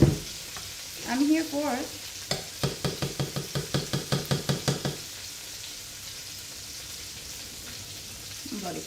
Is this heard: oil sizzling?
yes